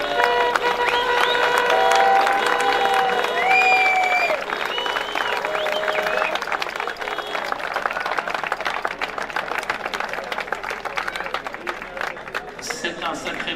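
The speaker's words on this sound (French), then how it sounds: "les applaudissements nourris et chaleureux" Warm, sustained applause from a crowd at a prize-giving for a historic hill-climb in Châtel, steady and dense throughout, with faint voices and a few whistles near the start before the clapping thins slightly.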